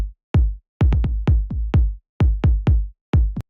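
Two layered kick drum samples play together in an electronic production: a quick, driving run of about a dozen booming thumps with sharp attacks, loud and upfront with no other instruments.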